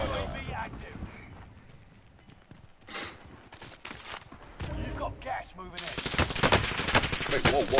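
Bursts of automatic gunfire and single shots from rooftop fighting on Rebirth Island in the video game Call of Duty, sparse early then dense rapid volleys building loud toward the end.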